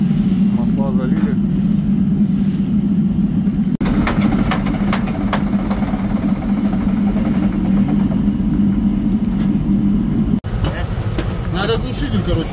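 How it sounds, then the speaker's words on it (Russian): The diesel engine of a Shantui SD32 bulldozer, an NTA855-C360, warms up with a steady, loud, low idling rumble throughout. Faint voices talk over it, and a few brief clanks are heard. "Идет процесс прогрева двигателя. Сейчас нагреем, будем пробовать запускать."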